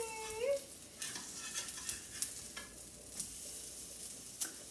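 Donuts sizzling in hot oil in a pan, a steady soft crackle with scattered small pops, fairly quiet and alone.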